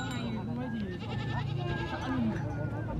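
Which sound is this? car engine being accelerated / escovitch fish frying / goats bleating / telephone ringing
goats bleating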